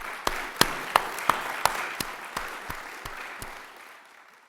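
Slow, scattered hand claps at a town meeting, roughly a dozen distinct claps in an even rhythm over a low room hum, tapering off toward the end.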